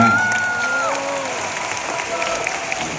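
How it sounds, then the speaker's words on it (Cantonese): A large live audience at a concert in Singapore breaks into applause, a dense wash of clapping under a sustained tone that slides away in the first second, with voices mixed in. "掌聲係屬於亮我嘅。"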